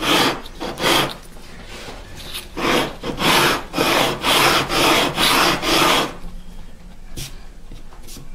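Sandpaper rubs back and forth over the nut of a custom electric guitar in about a dozen steady rhythmic strokes, close and moderately loud, then the scraping stops and only faint room noise remains.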